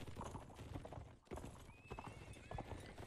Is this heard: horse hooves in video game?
yes